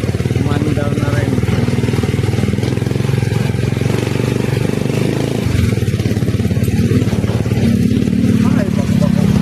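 A motorized tricycle engine runs steadily with a loud, continuous rumble and rattle as the ride pulls away through traffic in the Philippines, with no break in the drone.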